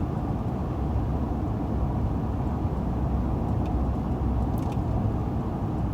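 A 2005 Lincoln Town Car cruises along a mountain road, heard from inside as a constant low rumble of engine and road noise, steady and unbroken with no speech.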